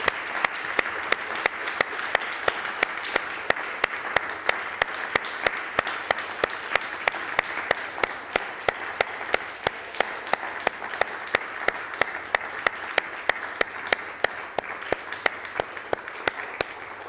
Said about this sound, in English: please imagine London Wembley Stadium clapping here